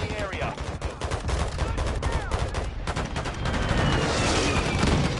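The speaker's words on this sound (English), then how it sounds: "I took a sentry down from long distance with an assault rifle" Dense bursts of assault rifle fire from a Modern Warfare III firefight crackle almost continuously, loud and close, with rapid shot clusters layered over a busy battlefield din.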